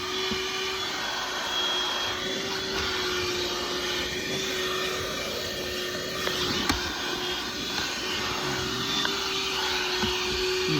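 A newly bought vacuum cleaner, fresh from the box, runs in a test with a steady, continuous whining drone and airy hiss, fairly close and unbroken, with no talking.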